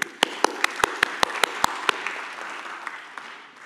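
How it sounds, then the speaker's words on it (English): Conference audience applauding at a Python talk, a run of sharp, evenly spaced claps at first that blur into a denser wash of clapping before fading out. "So from me to you, a huge applause."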